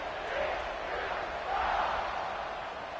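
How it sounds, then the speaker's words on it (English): A college football stadium crowd in a video game, Arkansas versus TCU, roars as a steady, faint, distant wash of cheering with gentle swells, no single voice standing out. "this crowd is feeling themselves after that last drive"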